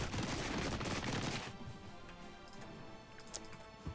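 In the battle game Regiments, a rapid burst of massed gunfire rattles for a second and a half, then thins into scattered, fainter distant shots and ticks.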